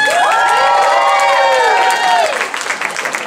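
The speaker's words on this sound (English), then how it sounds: "Round of applause to Macy's for putting on this event" Outside Macy's at Union Square in San Francisco, an event crowd applauds and cheers loudly with high shouts and whoops, then the cheering thins into scattered claps and calls.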